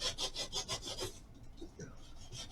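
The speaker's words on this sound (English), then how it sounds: "I got somebody sawing." Wood being sawn by hand in a home workshop: repeated rhythmic rasping strokes, about six close, fairly loud strokes in quick succession, then quieter workshop noise.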